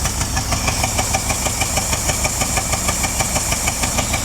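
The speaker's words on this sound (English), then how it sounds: "Mechanically though, the engine sounds really good." A previously seized V8 International truck engine runs rough, probably on about five cylinders, with a steady, close, rhythmic knocking idle throughout.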